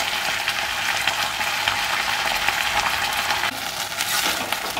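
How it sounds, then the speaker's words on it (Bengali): Chicken drumsticks fry steadily in a pan with soy, tomato and red chili sauces, giving a loud, continuous sizzle and crackle throughout with no voices. "আমার সস দিয়ে ভালো করে একটু ভাজা ভাজা হয়ে গেছে সসগুলোকে।"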